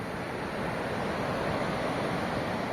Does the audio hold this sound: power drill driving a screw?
no